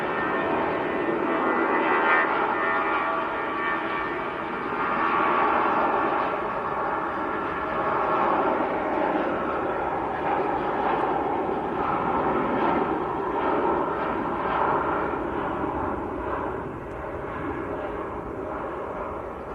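A British Airways airliner at Manchester Airport gives a steady, broad jet roar that holds at a fairly even loudness throughout, with no voices.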